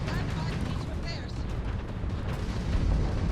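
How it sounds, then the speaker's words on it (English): Heavy, continuous gunfire and booming explosions fill a combat scene in the video game Starfield, a dense, loud rumble with a voice talking over it. "Stop shooting. You're gonna fucking blow me up."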